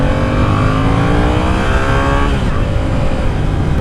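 A loud 2017 Yamaha FZ-07 motorcycle engine revs hard toward 12,000 RPM, its pitch climbing steeply before dropping off, roaring continuously with no voices.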